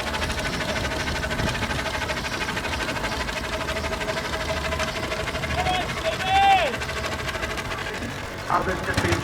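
Steam engine running steadily at a country fair, a continuous mechanical chugging with a brief whistle-like tone partway through and a crowd murmuring around it.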